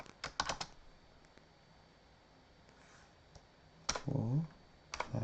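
A credit card number is typed on a computer keyboard in short bursts of quick key clicks separated by pauses, close and fairly faint, with a brief voice heard near the end.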